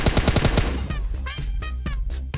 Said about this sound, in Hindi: फिलहाल अभी मुझ पर फायर कर रहा है वो